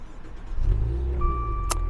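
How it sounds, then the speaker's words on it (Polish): A Maserati Quattroporte SQ4 with a 3.0 V6 twin-turbo engine rated at 410 hp catches and starts, settling into a steady, close, loud rumble with a faint whine and a brief sharp clink near the end. "zapalajmy wóz"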